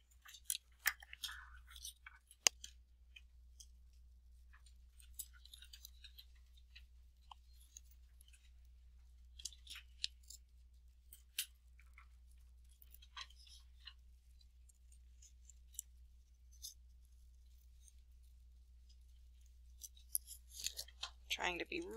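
Scissors snip through paper while cutting out a rotation tessellation shape, giving sparse, quiet crisp clicks scattered over a near-silent background with a low steady hum.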